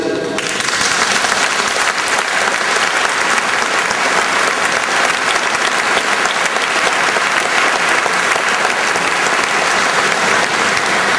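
Sustained applause from an audience fills the hall at a church's centenary inauguration in Arlon, dense and loud from start to finish with no talk over it.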